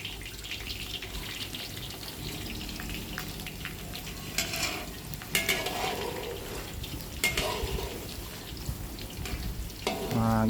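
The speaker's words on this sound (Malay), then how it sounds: "Kita goreng ubi ketan tadi dah." One kilogram of ubi ketan tubers fries in hot oil until golden and crisp, a steady faint sizzle with occasional utensil clinks and stirring.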